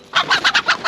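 Chickens and roosters clucking close by, a quick run of about six sharp, evenly spaced clucks in one second, loud and clear with no talk.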